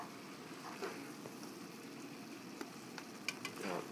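Ground turkey sizzles as it fries in a pan over an outdoor off-grid cooking setup, with soft scraping and stirring as the meat is broken up, close and moderately quiet.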